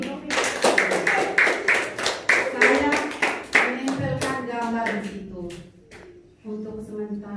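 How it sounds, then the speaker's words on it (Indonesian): Worshippers at a Catholic mass closing a children's retreat clap loudly in a fast rhythmic burst, with voices singing or calling out over it as the clapping tapers off. "Tepuk tangan lagi."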